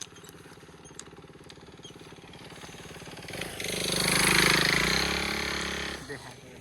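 A motorcycle approaches and passes nearby, its engine noise swelling to a loud peak and then fading, while a voice talks over the start.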